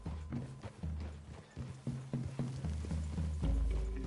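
Horse hooves clip-clopping at a walk on a forest trail in Red Dead Redemption 2, a series of uneven close thuds under a low musical drone, fairly quiet overall.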